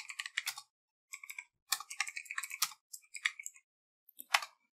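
Typing on a computer keyboard: bursts of crisp, close key clicks in short uneven runs with brief pauses between them, alone and fairly quiet.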